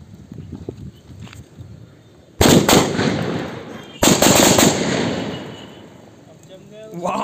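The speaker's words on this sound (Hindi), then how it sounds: "ये है लक्ष्मी बम की लड़ी जो हमने बनाई है" A homemade string of about 20-25 Laxmi bomb firecrackers explodes in two loud, close bursts of rapid crackling blasts, each decaying into a rumbling tail, after a quieter stretch of background noise.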